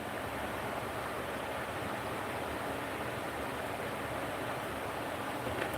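Steady rain falls outdoors, a broad, even hiss of drops that holds at a constant level throughout with no voices or breaks.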